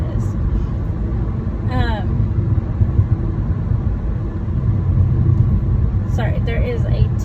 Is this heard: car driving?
yes